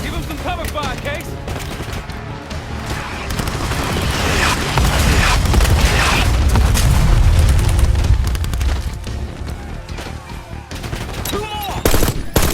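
Explosions and heavy gunfire from the Call of Duty Black Ops 6 video game, a loud sustained barrage of booms and rapid shots swelling in the middle and easing toward the end, with voices briefly heard.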